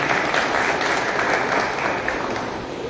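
At a book launch event in Mompox, an audience breaks into warm applause, a thick, even wash of clapping that holds steady and then eases slightly toward the end.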